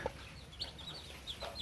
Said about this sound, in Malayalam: ഇങ്ങനെ അടച്ചിട്ട് വളർത്തുന്ന കോഴിയും കുഞ്ഞുങ്ങളെയും